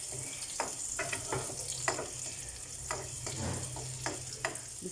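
Garlic and onion sautéing in a pan for ampalaya with egg, a soft steady sizzle broken by scattered scraping and stirring clicks, close and fairly quiet.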